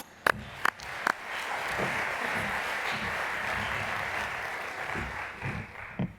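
Audience applause welcoming Dr. Anna Richards as plenary speaker at the ESA 2023 morning session, a steady broad wash of clapping lasting several seconds, with a few sharper, louder claps near the start.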